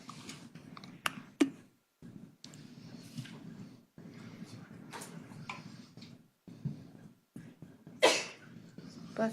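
A single sneeze in a courtroom, short and moderately close, set against quiet room tone with faint clicks and rustles, followed by brief murmurs.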